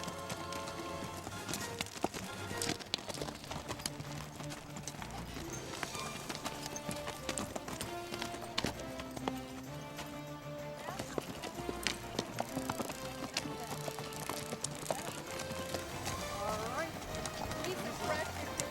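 Horse hooves clip-clop at a steady walking rhythm along a mountain trail on a cliffside, a continuous run of close, dense steps under ongoing background sound.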